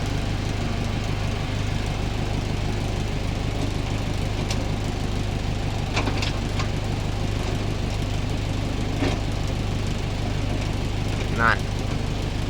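A small earth-moving vehicle's engine runs steadily while reversing as it scoops soil into a pond, a low continuous drone with a few faint clanks.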